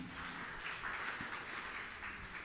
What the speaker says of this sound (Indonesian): Tepuk tangan yang meriah untuk kemuliaan amin.